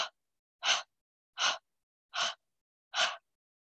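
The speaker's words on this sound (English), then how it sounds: "It's like 5 little panting motions through your mouth." Five quick, evenly spaced breaths pushed out through the mouth during a chair yoga session, with short airy huffs separated by clear silences.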